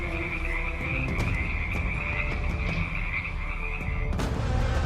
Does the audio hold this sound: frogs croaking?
yes